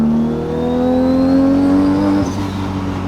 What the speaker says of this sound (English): Best sounding car I've been in.